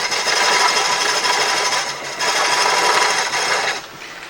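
Offset turning on a wood lathe, a chisel peeling curly shavings off the spinning wood, a loud steady rasping hiss that briefly dips twice before fading.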